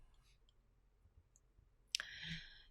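A computer mouse gives a single sharp click in a quiet room, followed by a faint electronic hum, close and soft.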